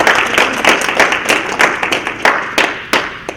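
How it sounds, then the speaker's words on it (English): A small audience claps to welcome a speaker at a mental health talk, with distinct separate claps in loose rhythm, close and fairly loud. "let's give her a warm round of applause"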